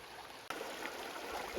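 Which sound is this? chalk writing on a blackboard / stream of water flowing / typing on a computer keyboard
stream of water flowing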